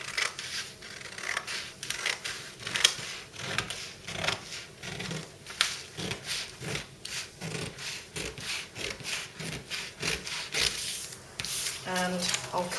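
Scissors cutting a paper sewing pattern piece along a line, a steady close run of crisp rhythmic snips and rustling that keeps going with hardly a pause.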